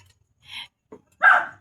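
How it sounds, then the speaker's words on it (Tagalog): A dog barks outside in a neighbourhood, giving a few separate barks at a distance, with short silent gaps between them and the last bark the loudest. "Kahit may tumatahol ngayon sa labas"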